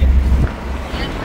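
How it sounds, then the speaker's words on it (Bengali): Cool morning wind buffets the microphone from a moving vehicle, a heavy low rumble that eases after the first half second into a steadier rushing hiss. "সকালের ঠান্ডা বাতাস গায়ে মেখে তারপর আমরা পৌঁছচ্ছি"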